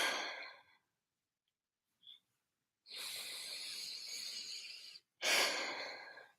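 A person takes deep breaths alone in a quiet room: a soft exhale trailing off, a pause, then a long airy inhale and a shorter, stronger breath out, close and gentle.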